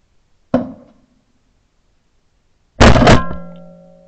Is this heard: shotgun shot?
yes